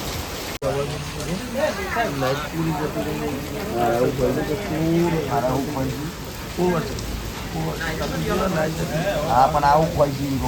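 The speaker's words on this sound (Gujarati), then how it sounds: "વરસાદ ફૂલ ચાલુ થઈ ગયો છે." Heavy rain pours steadily over an outdoor wedding gathering, a dense hiss beneath nearly continuous close conversation from several people.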